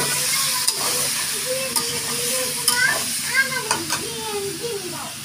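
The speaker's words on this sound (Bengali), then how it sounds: "মাংসগুলো এখন কষানো হবে। লবণ দেওয়া হচ্ছে, তেল আরও লাগবে, তেল দিল।" Meat stir-fried in oil with salt for biryani, sizzling steadily with scraping stirs and a few sharp clinks, close up, under a person talking.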